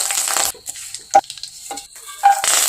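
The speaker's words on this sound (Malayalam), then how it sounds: "നമുക്ക് പാനിൽ കുറച്ച് എണ്ണ ഒഴിച്ച് കറിവേപ്പില വറുത്തെടുക്കാം." Curry leaves fry in oil in a pan. A bright hiss flares at the start and again at the end, with a few sharp stirring clinks and scrapes in the quieter middle.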